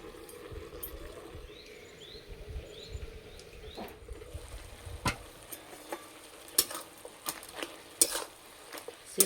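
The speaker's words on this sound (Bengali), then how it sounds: "খুলে একটু নেড়ে দেবো, নাহলে তলাতে লেগে যাবে।" Spinach stalk curry gets stirred in a pan, with a steady low sizzle and scattered scraping clinks of a utensil against the metal that grow sharper toward the end.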